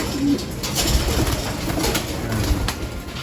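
Young pigeons left loose in a loft alongside molting breeders, cooing softly and steadily throughout amid a dense rustling background, with faint wing flutters now and then.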